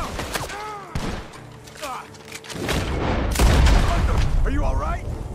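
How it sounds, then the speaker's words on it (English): Gunfire rings out around a barn in the video game Red Dead Redemption II, sharp booming shots and bursts while voices shout over the fighting. "The gunshots are coming from that barn!"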